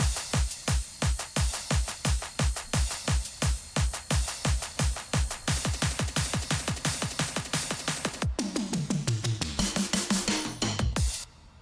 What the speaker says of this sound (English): Build-up drums sound like this.